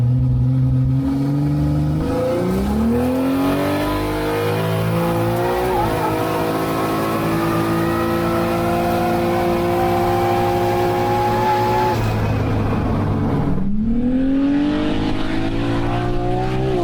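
LS turbo-swapped Nissan S15 Silvia drag car with a built LS1 and Garrett G45 turbo, running at Cootamundra Airport, its engine loudly revving and climbing through gears with tire squeal, a brief lift, then pulling hard again.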